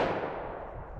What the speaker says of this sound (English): Hit that with our 357 Magnum